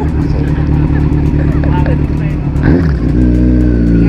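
Motorcycle engine running steadily while riding on a road, a loud continuous low drone with a shift in pitch partway through, close up, with faint voices mixed in.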